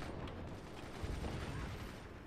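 Heavy mortar shells pound a base in the physics strategy game Forts, a dense, continuous barrage of low booms and rattling impacts packed close together with no pauses.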